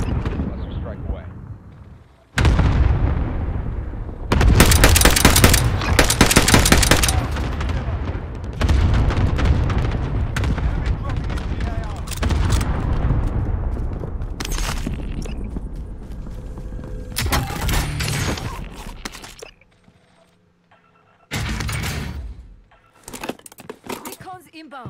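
Airstrike and gunfire in Call of Duty Warzone, loud booming blasts and crackling shots arriving in heavy bursts with brief lulls between them, while players talk over the din.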